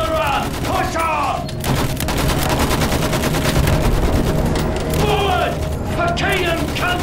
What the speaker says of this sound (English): That machine gun! Mow them down!